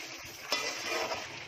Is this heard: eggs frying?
yes